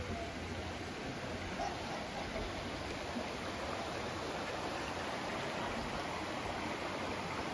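A clear river flows by on a bright day, giving a steady, even rush of water that fills the whole stretch without breaks.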